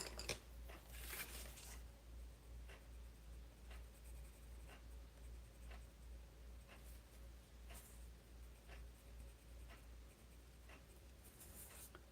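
Colored pencil strokes scratch across paper, shading in green with a steady, close scratching rhythm and occasional brief pauses, alone without any talk.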